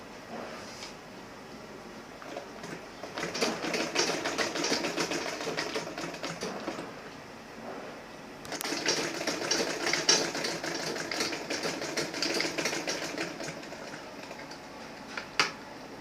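Sewing machine stitching an Ankara fabric handbag with leather trims, running in two bursts of rapid mechanical clatter separated by a short pause, fairly close with no talk.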